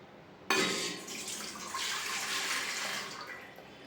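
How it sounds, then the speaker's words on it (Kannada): A glass of water is poured into an idli steamer vessel, starting abruptly with a splash and then a steady, close-up gushing stream that tapers slightly toward the end. "ಇದಕ್ಕೆ ನಾವು 1 ಗ್ಲಾಸ್ ನೀರು ಹಾಕ್ಕೊಬೇಕು."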